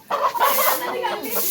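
A rooster is being caught and tied by the leg, giving loud, close, agitated squawks and clucks in a short flurry, with voices mixed in.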